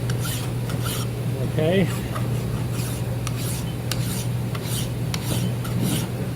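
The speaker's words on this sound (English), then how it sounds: "Nicholson finish file. It's called a second cut." Steel drill point gage being filed with a Nicholson second cut finish file, steady rasping strokes close up over a constant low hum, with a brief spoken word partway through.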